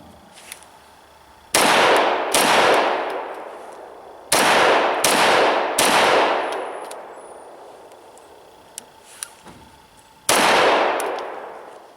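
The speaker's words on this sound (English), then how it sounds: "as we shoot the gun and we're riding through that recoil" An FNX-45 Tactical pistol fires six loud, sharp shots, spaced irregularly, each followed by a long echoing decay, with a longer gap before the final shot.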